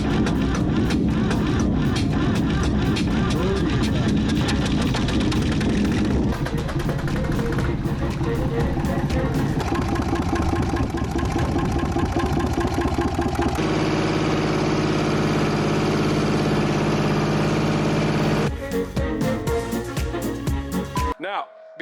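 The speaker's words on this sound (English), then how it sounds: "I got a little 3-cylinder air-cooled Deutz." A small 3-cylinder air-cooled Deutz diesel engine runs steadily and loudly, a continuous rough mechanical drone that shifts in tone partway through before cutting abruptly near the end.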